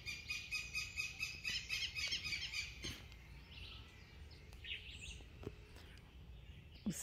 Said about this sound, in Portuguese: Nossa, passarinho.